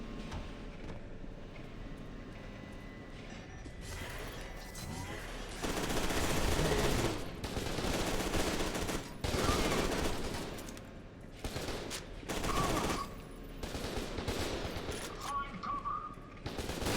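Enemy soldiers in FEAR 2 keep up sustained automatic gunfire, dense bursts of rapid shots overlapping in waves with brief lulls, loud and chaotic throughout a firefight.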